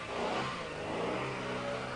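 A Rover 600 car drives away, its mid-pitched engine note rising and holding steady as it pulls off, continuous and moderately close with no voices over it.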